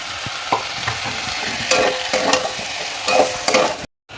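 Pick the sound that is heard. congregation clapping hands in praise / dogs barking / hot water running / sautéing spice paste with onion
sautéing spice paste with onion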